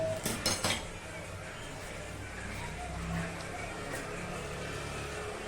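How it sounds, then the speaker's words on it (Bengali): A wok set down on a gas stove, a few quick metallic clanks at the start, then a steady low burner hum with faint kitchen clinks. "কড়াই বসিয়ে দিলাম"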